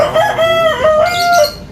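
A rooster crows loudly and close by, one long drawn-out cock-a-doodle-doo with rising and falling harmonic notes.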